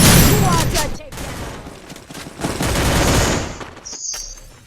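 Gunfire in the Free Fire video game, dense bursts of rapid shots that thin out and break off, loud, with voices talking over them.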